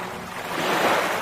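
A water sound effect in a children's Tamil alphabet lesson: a steady, fairly loud wash of surf-like rushing that swells slightly toward the end, with no voices.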